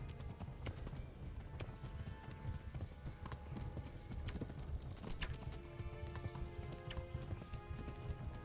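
Rapid rhythmic hoofbeats of a galloping horse in the video game Kingdom Come: Deliverance, steady and fairly close, over a busy low background rumble.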